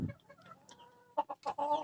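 Free-range village chickens (breeding hens) cluck and murmur nearby in a coop in short, quiet bursts, with a few sharper squawks near the end.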